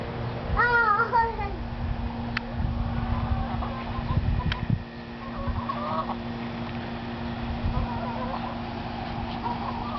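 Chickens cluck and squawk close by in a yard, irregular bursts over a steady low background hum, with people talking intermittently among the birds.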